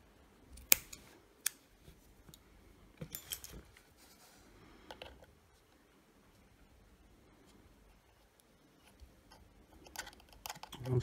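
Scissors snip cotton wick for a vape rebuildable dripper atomizer, a few sharp, quiet close-up cuts spaced apart against near silence, with soft handling clicks.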